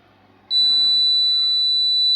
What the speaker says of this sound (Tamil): லைட் தண்ணி ஃபுல்லாகிட்டு இண்டிகேட்டர் ஆன் ஆகிடுச்சு